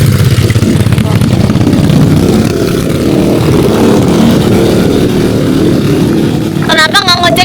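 A motorbike runs along a dedicated motorcycle lane on a mountain hiking trail at Mt. Papandayan, its engine droning steadily and close by the whole time, with a brief voice or squeak near the end.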